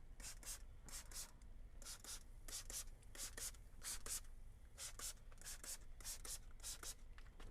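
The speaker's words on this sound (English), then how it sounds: "Let's go ahead and spritz it." A spray bottle spritzes smoked racks of ribs in quick repeated bursts, short hissing sprays in irregular pairs and runs, close and fairly quiet, with no talking.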